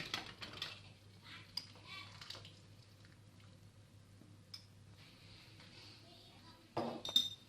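Light clinks and taps of glass jars against glass and metal while making blackberry jam, scattered and fairly quiet, with a louder cluster of clatter near the end.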